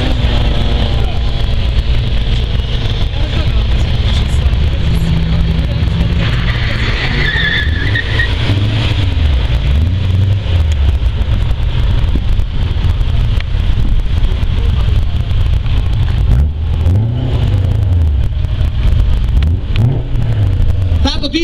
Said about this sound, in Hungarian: Jön egy E30-as BMW és egy 3-as Golf. Ha jól hallom, egy 9-es turbodiesel.